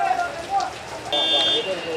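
Heavy rain falls on a waterlogged road at a busy junction in Hyderabad, a dense steady hiss with scattered splashes under traffic noise and a passing high-pitched whine, with someone talking over it.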